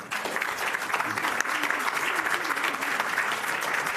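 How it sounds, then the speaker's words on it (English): A round of applause from attendees at a county board's annual retreat, steady massed clapping in a room, moderately quiet and sustained with faint voices beneath. "you deserve a round of applause as well."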